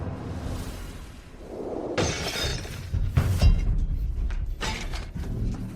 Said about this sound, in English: Prince Heng and Princess Fu barged in suddenly, cursing and smashing things everywhere.